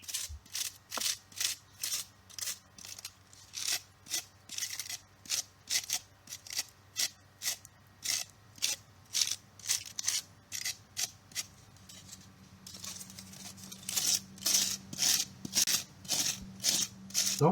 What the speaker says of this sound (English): I turn to the wire brush.